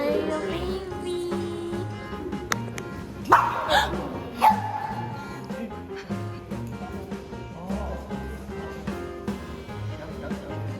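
A dog at Fuji Safari Park in Japan barks a few times in short sharp bursts, fairly close, amid background noise and some quiet talk.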